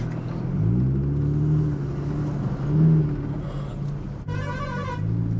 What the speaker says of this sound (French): C'est quoi tous ces camions?